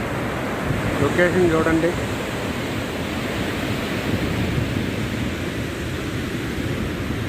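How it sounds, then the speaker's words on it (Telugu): Water released from a dam reservoir rushes in a broad, steady roar like surf, with wind buffeting the microphone and a voice speaking briefly near the start. "డామ్ ఎత్తేసారు. వాటర్ చూడండి ఎలా పోతా ఉందో."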